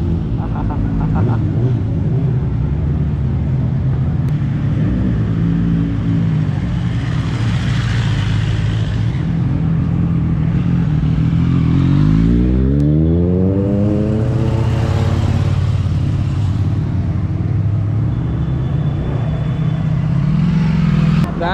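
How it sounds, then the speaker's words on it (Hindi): A Ducati Panigale V4 superbike revs its exhaust: a loud, continuous deep engine drone that climbs in a sweeping rev around the middle and then settles. People can be heard talking at times. "अब इसका एग्जॉस्ट साउंड सुनो तुम सब।"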